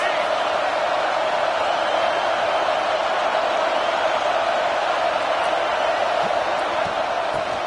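Loud, steady stadium crowd roar in a college football video game, Maryland at Michigan State, a dense continuous wash of noise that barely shifts in level throughout.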